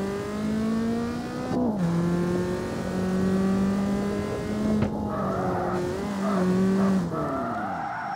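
Tires squeal through a long drift in the open-world street racing game CarX Street, the engine droning steadily beneath sustained pitch-bending screeches that shift as the car swings from one slide into the next.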